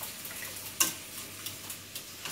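Thick vegetable bake sauce simmers in a pan with a steady low sizzle and bubbling, marked by occasional soft pops and a single sharper clink, close by with no talking.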